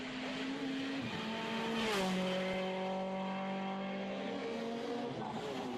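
Small WRC-class rally cars race along a rally stage at the Rallye du Condroz, engines whining steadily with gear changes and pitch shifts, heard loud and continuous with no talk.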